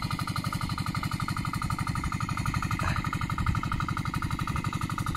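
Motor driving an irrigation water pump on a sugarcane farm, running with a steady, rapid, even chugging pulse at constant volume, close by and uninterrupted.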